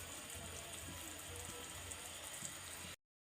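Half a glass of water poured into a pot of turnip and mutton curry, a steady close splashing pour with soft bubbling that runs unbroken for about three seconds before stopping abruptly.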